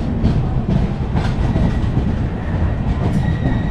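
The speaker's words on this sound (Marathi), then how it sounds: "दिवा सावंतवाडी ट्रेन आलेली आहे" The Diva–Sawantwadi passenger train rumbles steadily close by as it arrives at Chiplun station, wheels clattering on the rails with faint metallic squeals, a continuous loud roar throughout.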